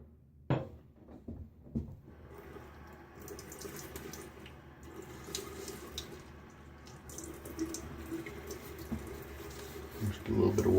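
Tap running steadily into a bathroom sink during a wet shave with a Rockwell 6S safety razor, a low continuous splash after a couple of sharp knocks, nearby and moderately quiet.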